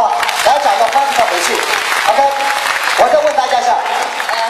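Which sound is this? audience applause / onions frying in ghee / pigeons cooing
audience applause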